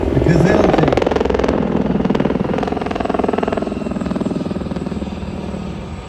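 A loud Gazelle helicopter team passes close by at an air show, rotors chopping steadily and slowly fading, with a commentator talking over it.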